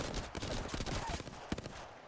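Bursts of rapid gunfire crackle through an Apex Legends match, dense and fairly loud at first, then thinning into scattered shots and game noise with no clear speech.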